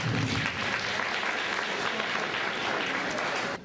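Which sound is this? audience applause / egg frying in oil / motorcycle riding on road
audience applause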